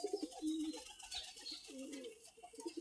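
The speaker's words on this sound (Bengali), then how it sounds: "কবুতরগুলা চালে উঠে কুম্বাকুম করতেছে" Pigeons coo on a farmhouse roof, soft repeated throaty murmurs at close range, quiet and low with faint ambient hiss between calls.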